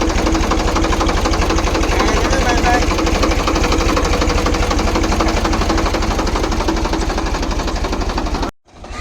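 A tractor engine runs close by with a fast, steady knocking thump, holding an even rhythm before cutting off abruptly near the end.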